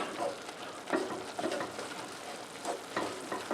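A sauce thickened with two tablespoons of flour is stirred around in a pan, a soft, steady sizzle with a scraping swish from the spoon every second or so.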